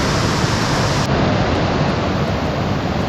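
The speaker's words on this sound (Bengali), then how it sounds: "এই ঝর্ণাটা আসছে।" Steady, loud rushing roar of a mountain waterfall fed by snowmelt from white snow-covered peaks on the Kanchenjunga Base Camp trek between Ghunsa and Khambachen, continuous broadband water noise with no voices.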